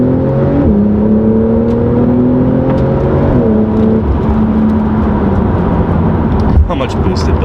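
Porsche 911 Carrera 4S with PDK gearbox accelerating, engine note climbing steadily with quick gear changes dropping the pitch, steady loud drone throughout, voices talking over it.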